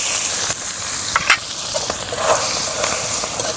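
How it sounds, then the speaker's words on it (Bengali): Chopped onion frying in a pan of hot oil with whole spices (cardamom, cloves and cumin seeds), giving a steady close sizzle with a few brief stirring scrapes and no talking. "পেঁয়াজটা এখন হালকা নরম করে ভেজে নেব।"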